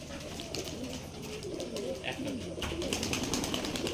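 Pigeons kept at an abandoned site coo in low, rolling calls throughout, close by, over a murmur of background voices and ambient noise.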